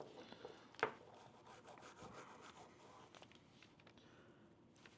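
Close, quiet rubbing and scrubbing as dirt and grime are cleaned off an Epiphone Les Paul electric guitar, with one brief sharp knock early on and soft irregular strokes afterward.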